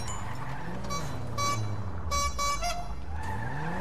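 Cars in GTA 5 collide repeatedly, with engine drone, sliding tones and short bright metallic impact bursts, loud and close, no talk.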